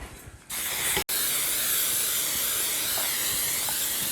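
Greasing spray hisses from an aerosol can onto cake pans, a loud continuous close-up spray with one brief break near the start.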